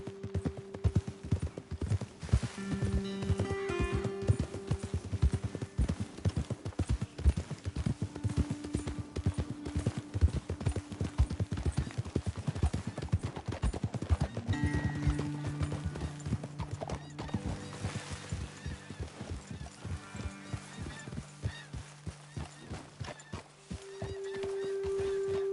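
Hooves clip-clop in a continuous walking rhythm, with several horses and an occasional whinny over a soft musical background, in Red Dead Redemption 2.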